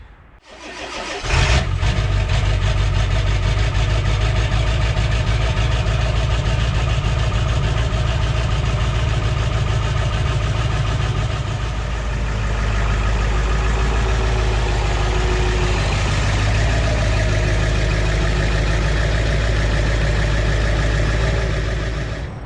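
A Ferguson 35 tractor engine turns over and catches after a second, then rumbles on at a loud, steady idle with a slight dip in pitch midway.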